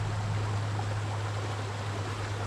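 Hot water flows in a constant, even rush, close by, with a low steady hum running underneath and no voices.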